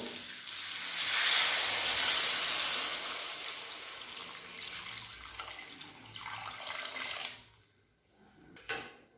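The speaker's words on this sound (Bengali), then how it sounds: "এবার জল দিয়ে দেবো।" Water pours steadily into a cooking pan for a Bengali bhola fish curry with bitter gourd and potatoes, a loud rushing splash that tapers off near the end, with no talk.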